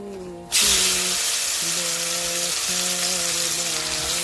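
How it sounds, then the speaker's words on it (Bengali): Spice paste dropped into hot mustard oil in a wok bursts into a loud, continuous sizzle that starts abruptly and holds steady, close and dense. "এবার আমি পেস্টটা এর মধ্যে দিয়ে দিচ্ছি"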